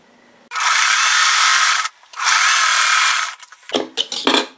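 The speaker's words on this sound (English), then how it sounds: "now we're just going to sew these 2 pieces together for our little piece of" A sewing machine stitches two small fabric pieces together for a fanned crumb quilt block: two steady, close, loud runs of about a second and a half each, then a few short clattering bursts as the fabric is handled.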